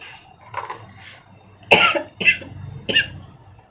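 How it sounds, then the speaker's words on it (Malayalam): A few close, harsh coughs in quick bursts, with short pauses between them and no talking. "നല്ല ചുമയാണ്"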